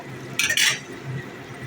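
A metal lid set onto a cooking pot of mutton fry makes a quick, bright double clink, close and crisp, over a faint low kitchen hum.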